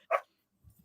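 A dog in a house gives one short, sharp bark close by, followed by silence and a faint low rustle.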